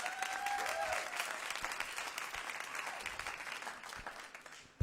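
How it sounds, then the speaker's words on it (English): An audience at a YouthRock 2024 semi-final clapping their hands together, a steady dense wash of applause that slowly tapers off over a few seconds. "you might do it by clapping your hands."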